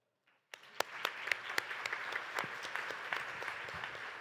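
An audience at a ministerial panel session begins applauding after a brief silence, with crisp, fairly close claps building into steady applause.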